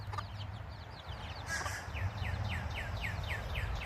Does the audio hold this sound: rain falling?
no